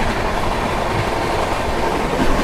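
Rajdhani Express (12431, Trivandrum Rajdhani) running flat out at 130 km/h on the Mathura–Nizamuddin section, a steady loud rumble of wheels and carriage with faint clickety-clack, continuous without pauses.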